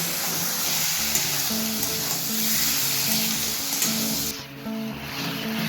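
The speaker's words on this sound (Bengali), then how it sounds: "আলুটাকে একটু হালকা করে ভেজে নিলাম" Boiled potatoes lightly frying in oil in a pan give a steady close sizzle, with faint clinks of stirring and a brief drop in the hiss near the end.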